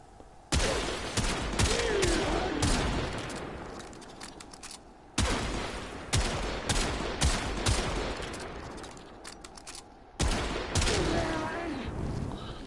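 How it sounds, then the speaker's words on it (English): Rubico Prime sniper rifle shots in Warframe, aimed at level 125 heavy gunners, come as three loud, sharp cracks spaced several seconds apart, each followed by a long decaying rumble of game effects, with a voice talking underneath. "It took us about 15 shots to kill 3 level 125 heavy gunners"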